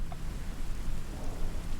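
Rain ambience in Kaiserreich, set in England: a steady wash of falling rain with a low rumble underneath, even and continuous at moderate volume.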